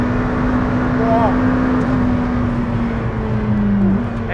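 A McLaren Senna's engine roars at high speed in a steady, loud drone that rises slightly in pitch, heard from inside the car with occupants talking over it.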